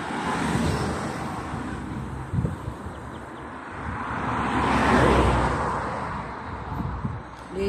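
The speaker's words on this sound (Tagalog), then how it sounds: "Maraming sasakyan." Steady roadside traffic with many cars and trucks going by, swelling as a nearby vehicle passes midway, heard from the street edge.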